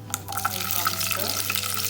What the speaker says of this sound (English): While the dry fruits and all the dry ingredients are getting roasted in the ghee